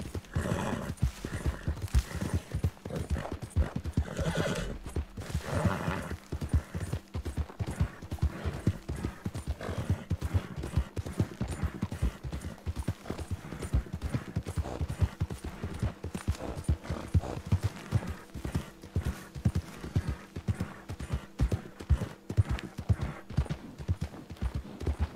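Horse in the Red Dead Redemption 2 video game, loud rhythmic hoofbeats galloping continuously with a whinny or neigh breaking through, no talking.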